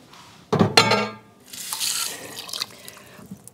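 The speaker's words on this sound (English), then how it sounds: "And I'm going to cover them with water." Water runs into a pot of chicken pieces being covered for pre-cooking before pressure canning, with a sharp clatter of the pot and then a softer stream of pouring and splashing that tapers off.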